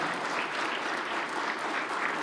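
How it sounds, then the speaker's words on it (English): At an off-road racing finals event, a crowd applauds a former UFC prize fighter brought onstage, a steady, even roar of many hands clapping, moderately distant and uninterrupted by speech. "Give Matt Hughes a big round of applause."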